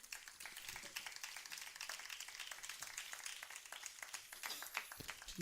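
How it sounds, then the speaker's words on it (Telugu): A congregation at a Christian gospel meeting claps steadily in praise of Jesus, a dense, even patter of many hands that carries on for several seconds, heard from a distance. "ఈ సమయాన్ని ఇచ్చిన యేసయ్యకి ఒకసారి చప్పట్లు కొట్టండి."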